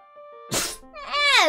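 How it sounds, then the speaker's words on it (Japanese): Someone suffering from hay fever lets out a single sharp sneeze, close and loud, followed by a brief rising voiced groan. "くしゃみ"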